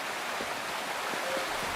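Steady broadband rush of a waterfall in a Wuthering Waves game scene, a constant even wash of falling water with no voices.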